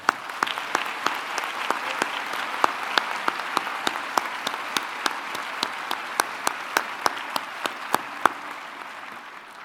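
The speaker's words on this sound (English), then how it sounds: "Let's give a round of applause to the staff who assisted with today's ceremony" A large audience at a Doctor of Pharmacy hooding ceremony applauds for the assisting staff, giving steady, dense clapping for nearly ten seconds with a few sharper claps standing out near the front.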